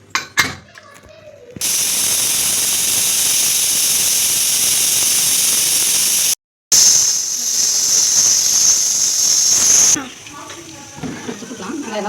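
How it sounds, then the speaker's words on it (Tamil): A loud, steady high-pitched steam hiss from a pressure cooker whistle blasts for several seconds, briefly cuts out, then resumes before stopping abruptly, leaving quieter kitchen sounds. "ஒரு 3 விசில் வந்தால் போதும், வெந்துடும்."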